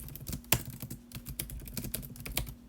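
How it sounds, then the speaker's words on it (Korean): A computer keyboard is typed on in quick, uneven bursts of soft clicks and taps, close by and fairly quiet, with no talking over it. "예쁘게 적어보기 위해서 키보드로 마저 적어볼게요"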